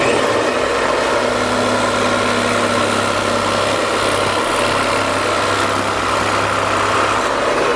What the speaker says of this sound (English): This is a Rockwell, basically upside down jigsaw. It has a plastic cutting blade in it.